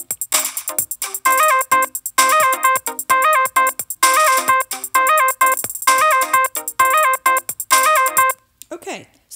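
A looping drum beat programmed with EarSketch's makeBeat plays as loud, evenly spaced electronic hits with bright tonal accents in a steady repeating rhythm, cutting off near the end.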